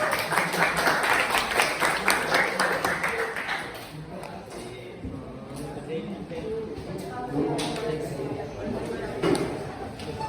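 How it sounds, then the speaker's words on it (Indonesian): Classroom applause for a student called up to the front, a dense patter of many hands clapping strongly for a few seconds, then fading into scattered claps and chatter with voices talking. "Yuk, tepuk tangan dulu untuk Sean."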